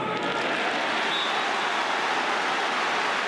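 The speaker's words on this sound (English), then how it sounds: "Warm round of applause indicates that that has reached its target." Crowd applause rises at a Limerick versus Tipperary 2021 Munster senior hurling final, a steady dense wash of clapping from a large stadium audience, sustained and fairly distant throughout.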